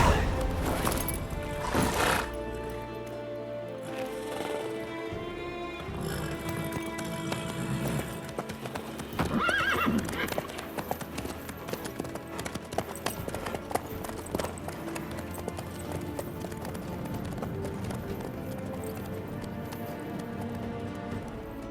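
Horse hooves clip-clop steadily in The Witcher 3 as a mount trots along, a rhythmic patter running under game music and occasional voices.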